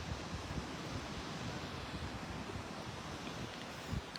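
Ocean waves washing onto a beach at sunrise, a steady, even roar of surf mixed with wind noise on the microphone, continuous and fairly faint with no distinct breaks.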